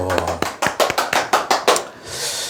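About eight sharp hand claps in a quick, slightly uneven rhythm, close and fairly loud, from a presenter during a sales coaching talk, trailing off into a soft hiss.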